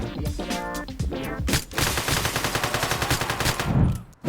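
Video game gunfire: rapid automatic bursts crackle in quick succession, a stuttering string early on giving way to a long, loud sustained stream of shots, then a heavier blast near the end.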